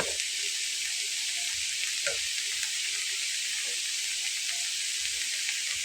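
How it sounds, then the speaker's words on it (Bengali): Cabbage mixture for cabbage chops sizzles steadily in oil over a low flame, a continuous bright frying hiss with soft scrapes and small bumps as it is stirred and mixed, no voices. "তেলের আঁচটাকে একদম লো ফ্লেমে রেখে এটাকে ভালো করে সাথে মিলিয়ে নিতে হবে।"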